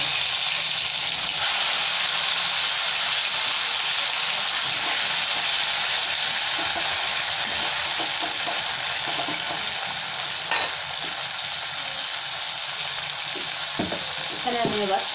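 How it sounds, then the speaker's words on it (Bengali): Tomato sizzles in hot oil with black cumin (kalo jeere), a loud, continuous frying hiss with occasional stirring scrapes near the end. "তেলটা গরম হয়ে গেছে, একটু কালো জিরে দিয়েছি, এবার একটা টমেটো দিয়ে দিলাম।"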